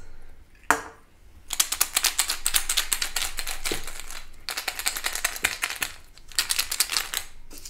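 Plastic egg holding five puzzle pieces, shaken in rapid bursts of dense clattering rattles, with a few pauses and single knocks between shakes, close and fairly loud.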